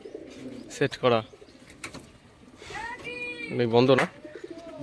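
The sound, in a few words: pigeons cooing in a loft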